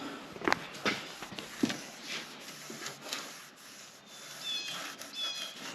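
Rubbing strokes scrub across the surface of a wagon during cleanup, a run of scratchy sanding-like passes that come in irregular bursts, close and moderately loud, with no talking.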